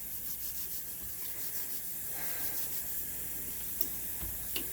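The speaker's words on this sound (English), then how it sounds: "This is how I'm cleaning up my cucumbers." A scrub pad rubs over cucumbers wet with hydrogen peroxide spray, giving a soft, continuous scrubbing rasp with a couple of small taps near the end, fairly quiet and close.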